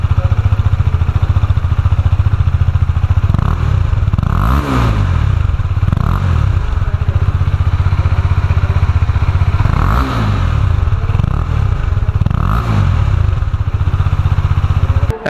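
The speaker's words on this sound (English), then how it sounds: "let's hear the exhaust note from the bike" A KTM Duke motorcycle idles close up with a deep, throbbing exhaust, blipped into several short revs that rise and fall back to idle.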